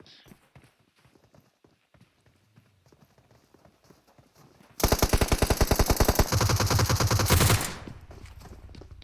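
In the video game PUBG Mobile, a rapid burst of automatic gunfire erupts from a rooftop, loud, close and sustained for about three seconds after quieter sporadic game sounds.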